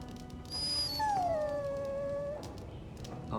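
A dog in Dragon Age: Origins whimpers and lets out a drawn-out, falling howl, a single mournful cry at moderate level over a quiet game background, with a short whine rising again at the end.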